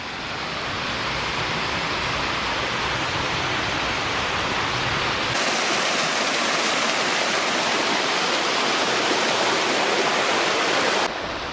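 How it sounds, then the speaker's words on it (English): Waterfall and creek at Granya Falls in Mount Granya State Park, heard from the bottom of the falls beside the creek as a loud, continuous broadband rush of falling and flowing water, close and unbroken throughout, with no voices. "I'm at the bottom of the falls and just alongside the creek,"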